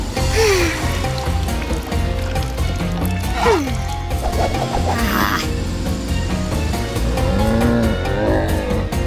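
A car drives past with a continuous engine roar. Short tire squeals and whining, sliding tones rise over a dense, busy background.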